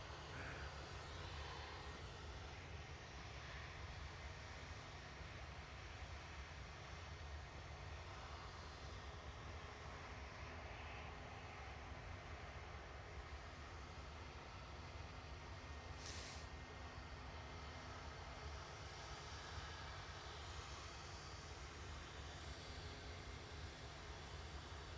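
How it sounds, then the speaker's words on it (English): A Virgin Atlantic Airbus A330-300, registration G-VWAG, arriving at Manchester Airport from New York JFK, its engines a steady loud roar throughout with no voices. "Virgin Atlantic's VS128 coming in from New York JFK now"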